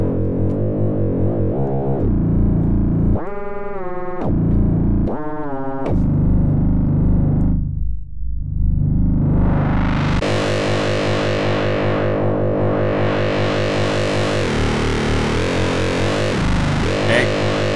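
Distorted synthesizer bass with detuning and filter sweeps, gritty sustained notes and pitch warbles, a deep swooping dip midway followed by a brighter rising and falling sweep, loud and alone.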